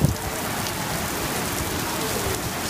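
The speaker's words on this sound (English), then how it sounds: "It's pouring rain right now." Heavy rain pouring down at Walt Disney World's Hollywood Studios in a dense, steady hiss of drops hitting surfaces, continuous and close, with no talking.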